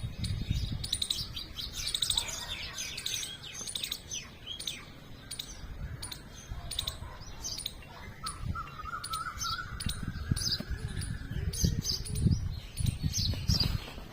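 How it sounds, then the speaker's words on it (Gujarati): Many sparrows chirp and tweet busily close by, a steady chorus of sharp, rapid calls with low background rumble. "જોવો તમે ચકલા અને કેવા મસ્ત અવાજ આવે છે"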